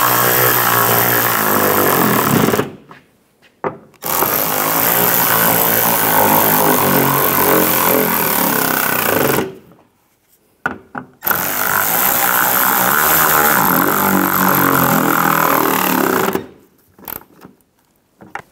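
A power tool runs down the nuts while a rear-view camera is fitted on a 2011–2019 Ford Explorer: three loud, sustained whirring bursts close by, separated by short pauses.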